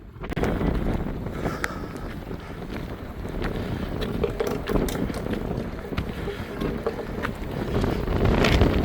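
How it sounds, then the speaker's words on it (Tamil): Strong wind gusts roar steadily across an exposed rocky hill with moderate rain, a loud continuous rush of buffeting air against the microphone, swelling toward the end with no talk. "அட்டகாசமான காத்து மிதமான மழை"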